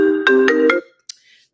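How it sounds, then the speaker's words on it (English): A phone ringtone plays loud and close, a few quick rising tones in a tight rhythm that stop abruptly, followed by near silence with one faint click. "Loudest ringtone I ever heard in my life."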